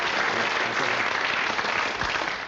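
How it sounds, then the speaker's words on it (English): Loud, sustained applause from a comedy show audience greeting a prop, a Tory party booklet, with dense clapping filling the whole stretch at steady volume and a few cheers mixed in. "that's got the biggest round of applause of any prop that I've ever seen"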